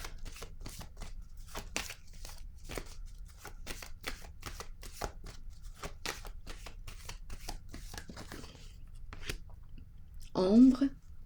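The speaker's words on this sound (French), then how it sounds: "Je vais piger une autre carte." Tarot-style cards are shuffled and drawn in a rapid series of crisp riffling flicks, fairly close and light, with a louder rustle near the end as a card is pulled, and a voice talks throughout.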